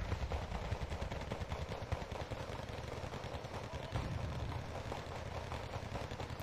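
BM-27 cluster rocket artillery in the Wargame: Red Dragon video game rattles in a continuous, dense barrage of crackling bursts and low rumble, steady and loud throughout with no voices.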